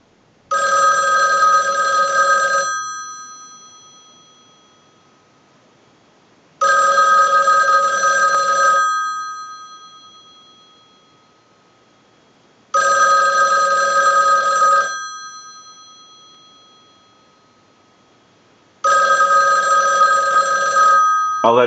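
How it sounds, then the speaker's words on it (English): A payphone bell rings in four long bursts spaced by several seconds of near-silence, driven by a test ring cycle from a line analyzer; it is loud and close, with no talking. "use our analyzer and send a ring cycle like you were getting a call"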